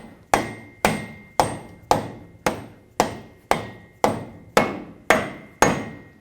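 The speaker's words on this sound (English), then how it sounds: "Now I'm going to use a rubber mallet." A rubber mallet taps a front axle part into place on a 1999-2007 Ford F-250 Super Duty, ten evenly spaced loud thwacks, each ringing briefly, with no talk.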